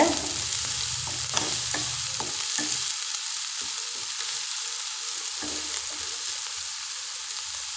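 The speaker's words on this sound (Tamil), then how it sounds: "இப்போ நாம் வெங்காயத்தை சேர்த்துலாங்க வெங்காயத்தை நல்லா வதக்கிக்கோங்க" Onions and mustard seeds sautéing in hot oil in a pan, a steady close sizzle with spoon stirring scrapes, for a Tamil beetroot poriyal.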